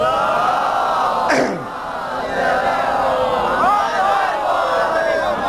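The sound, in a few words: audience chanting a loud religious slogan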